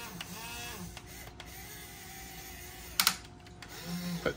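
A HUINA 1551 long-boom RC excavator's small motorized mechanism whines and grinds quietly, straining at its limit in short bursts, with a few sharp clicks and a brief rattling clatter near the end.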